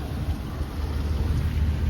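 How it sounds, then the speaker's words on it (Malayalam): Steady rain falls on a misty, fog-covered road through the Munnar hills, a continuous broadband hiss with a low rumbling undertone, close and even throughout. "മഴ ചാർന്നും കോടയും"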